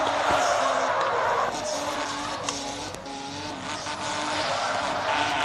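Car drifting sideways with tires skidding and squealing, a loud sustained engine roar with screeching rubber rising and falling close by.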